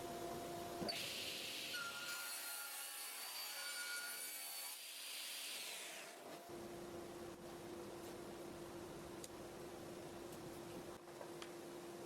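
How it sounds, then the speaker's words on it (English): A saw trims wooden pieces to length and cuts miters for a coffee table build, a bright rasping cut lasting several seconds over a steady background machine hum. "take my pieces right over to the saw and start trimming them to length and cutting the miters"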